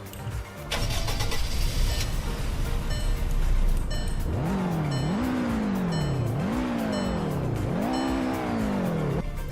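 A GT trim car in Roblox Greenville cranks and starts, then revs in three rising, falling sweeps, loud and close with no talking.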